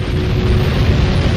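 A sustained, loud, deep rumbling roar of an exploding star, a supernova sound effect, dense and steady throughout with no talk.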